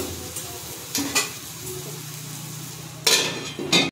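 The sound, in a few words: stirring prawn khichuri in a pot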